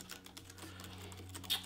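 Keys click in quick, uneven bursts on the keyboard of a Gigabyte Aorus 17x gaming laptop, close and soft over a low steady hum, with no talking.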